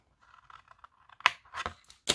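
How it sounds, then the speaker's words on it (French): Scissors snip through paper for a handmade papercraft pouch, a few soft cuts followed by several sharp, close crunching snips in an irregular rhythm. "Moi je fais avec les ciseaux."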